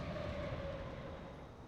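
Mountain trains running in Transport Fever 2, a faint steady rail rumble with a thin sustained whine, heard at a distance and fading slightly, no talk.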